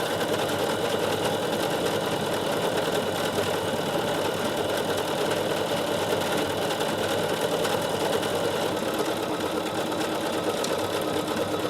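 Bernina 7 Series sewing machine running steadily in combi mode as it stitches a decorative pattern, a continuous close mechanical whir with no pauses and no talk.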